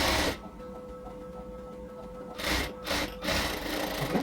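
Stitching a zipper onto fabric, a sewing machine hums steadily at moderate volume, then gives a few louder rasping bursts near the end as the work shifts.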